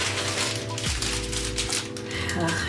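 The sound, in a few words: unzipping a DJI Mini 2 drone carrying case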